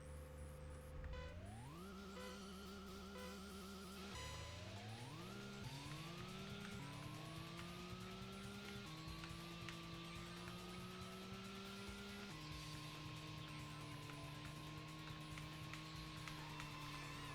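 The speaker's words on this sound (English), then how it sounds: "There's a drift." Racing car in the video game Initial E drifting, its engine whining upward through repeated gear changes, loud and continuous with tire noise underneath and no talk.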